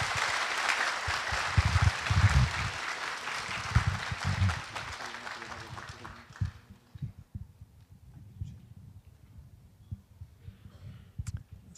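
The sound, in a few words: audience applause welcoming a guest speaker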